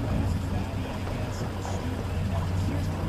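A motorboat engine idles on the St. Clair river as a steady low rumble throughout, with wind and water noise layered over it.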